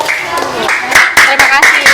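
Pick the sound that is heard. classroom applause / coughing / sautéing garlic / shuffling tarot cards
classroom applause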